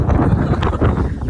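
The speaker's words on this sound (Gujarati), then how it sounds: "મસ્ત પવન આવે છે" Strong wind gusting outdoors in a village, a steady rushing roar with buffeting on the microphone, loud and continuous throughout.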